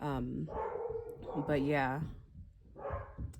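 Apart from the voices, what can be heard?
dog barking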